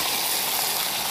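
Pork liver hits a hot wok holding oil with pickled ginger, pickled chilies and chili bean paste, giving a loud, continuous, close hissing sizzle with no pauses.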